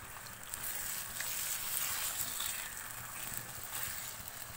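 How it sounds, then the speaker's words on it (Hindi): Chicken for Shinwari karahi frying over a high flame: a steady, crackling sizzle of hot oil, moderately close and fairly quiet, continuous throughout with no talk. "चिकन को मैंने हाई फ्लेम पे फ्राई कर लिया है"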